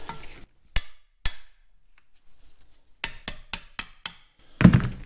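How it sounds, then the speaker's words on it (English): A brass drift taps a part out of a Caterpillar D2 diesel injection pump in a workshop, giving a few sharp metallic strikes, then a quick cluster of close, crisp taps and a last knock. "And just tap it out."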